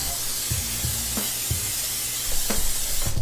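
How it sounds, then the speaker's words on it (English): Olive oil spray hisses steadily into a baking dish for a keto cheeseburger casserole, a soft continuous mist with a few faint knocks beneath, growing slightly louder near the end. "I guess I can go ahead and spray it with some olive oil"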